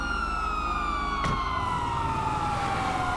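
Police car sirens wail in the GTA 5 video game, a loud, steady electronic tone that slowly falls in pitch over rumbling engine noise, close and with no talking.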